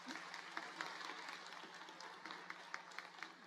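Scattered clapping at a college commencement, with individual sharp claps standing out over a soft crowd murmur in a large hall, faint and distant.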